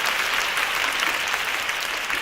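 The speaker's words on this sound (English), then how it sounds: "Thank you very much for the applause" Students clapping at the end of a psychology lecture, a steady, dense burst of applause filling the room throughout.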